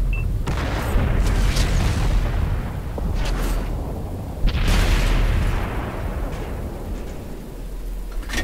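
An FV304 self-propelled artillery gun fires in World of Tanks, giving a loud, deep boom with a long rumbling tail, then a second heavy blast follows partway through amid low battle rumble.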